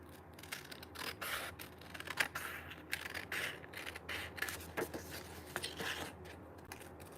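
Paper is trimmed for a rain boots card-making craft project, with a series of soft, close rhythmic slicing and rubbing strokes from a paper trimmer.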